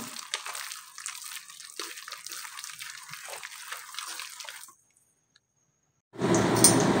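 Water from a rinsed mixer bowl pours and splashes into batter for fritters, a steady trickling stream that stops abruptly, then a louder broad gush of liquid after a short silence.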